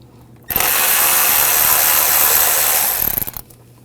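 Ratchet wrench with a T30 socket backing out screws on the cooling fan assembly of a 2006-2009 Audi 4.2L V8, a steady close, loud continuous clicking run of about three seconds, ending in a few separate clicks.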